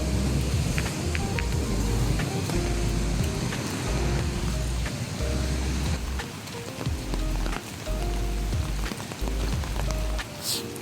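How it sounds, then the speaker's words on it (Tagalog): Heavy typhoon rain and wind in Taiwan, a steady dense roar with drops spattering on surfaces throughout, loud and close, with no voices. "Ang lakas ng bagyo."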